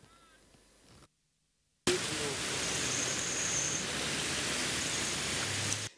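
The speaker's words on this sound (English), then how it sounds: "The heavy rainfall, which began in the early hours of Thursday, was torrential and intense." Heavy torrential rain pours down over metropolitan Lagos as a loud, dense, steady hiss after a brief silence, with faint background sounds earlier on.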